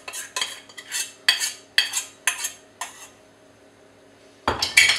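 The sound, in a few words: mixing nuts in a bowl for chocolate coconut granola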